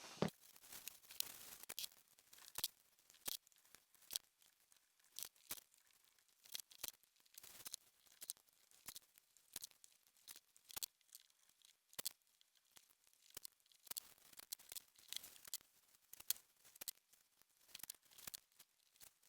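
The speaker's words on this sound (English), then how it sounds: "Now what we're going to do next is we're going to tape up the shoe and get to paint." Masking tape torn and pressed on while a Jordan 3 sneaker is taped up for painting: faint, close, irregular rips and crinkles repeating steadily throughout, with no talking.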